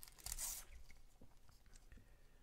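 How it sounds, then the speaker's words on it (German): Football sticker packets being torn open, with a short, close paper rip followed by softer crinkling and small handling sounds, faint and quiet. "wenn man die Sticker so schnell hier auspackt"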